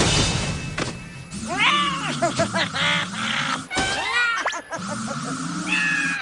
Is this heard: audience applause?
no